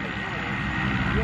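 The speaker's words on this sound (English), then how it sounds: "I'm sorry if it's loud, that's the plane taking off" Inside a skydiving plane as it takes off, the engine drones loud and constant, with a wavering propeller hum and a faint rising tone.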